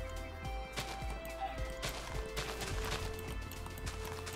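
Horses in Minecraft with the Feed The Beast modpack, a string of clip-clopping hooves and sharp hurt sounds repeating at a steady pace over constant game background noise.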